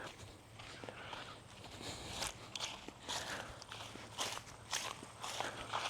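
Steady footsteps crunch along the ground as someone walks around an outdoor burn pit, an even, quiet rhythm of close steps with no talking.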